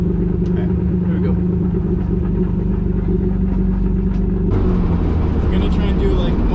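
A turbocharged BMW E36 drives on the street with a deep, rumbling engine drone close up, shifting to a rougher, louder tone partway through as the throttle changes.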